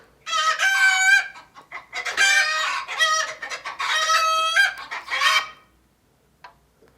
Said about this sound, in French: Un poulet, ça ressemble à ça.